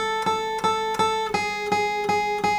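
Second line of Jingle Bells picked on guitar, a short run of about eight evenly spaced plucked notes with ringing sustain, clear and close with no talking.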